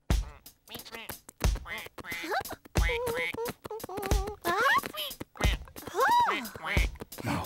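Repeated quacking calls, close and bright, in short bursts scattered among voices talking.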